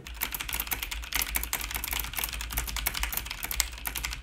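Rapid, continuous keystrokes on a computer keyboard, close and steady, with no voices over the clicking.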